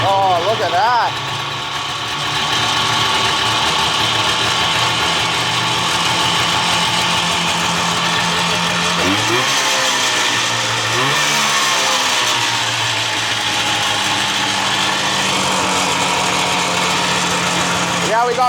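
A Yamaha Banshee 472 two-stroke engine on a Cheetah SuperCub runs steadily and loudly close by after being primed and pull-started, with revving swells partway through and people talking over it.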